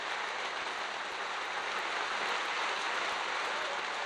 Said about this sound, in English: Rain coming down even harder here at the Centre of Excellence